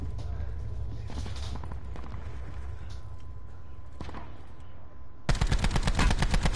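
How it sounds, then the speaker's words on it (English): Gunfire in a multiplayer video game: a few isolated shots early on, then a rapid burst of automatic fire near the end, heard loud and close. "One, two, three, four shots."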